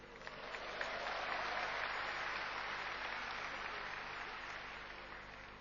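Congregation applauding during an Easter sermon in a church, a soft, steady wash of distant clapping lasting several seconds without talk.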